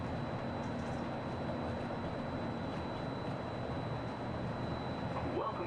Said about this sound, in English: Walt Disney World Express Monorail, our highway in the sky to the Magic Kingdom